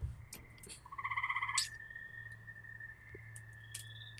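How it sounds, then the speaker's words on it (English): Spring peeper frogs call outdoors, with a quick run of rapid pulsing trills and several thin piping notes, faint with a low steady hum underneath. "Love the frog sounds, and I know others who will light up when they hear this."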